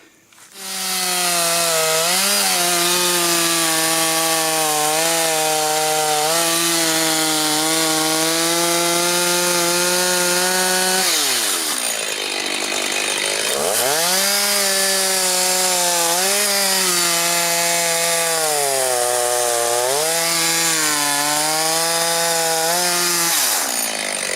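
A Stihl 029 chainsaw with worn-out clutch springs cutting sideways through wood, its engine droning loud and close with steady pitch that dips and bogs under load before revving back up.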